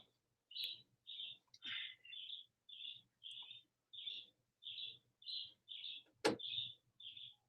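Birds chirping outside on a hot day: a regular series of short, clear tweets repeated about a dozen times at steady intervals, fairly faint, with one sharp knock partway through and no talk.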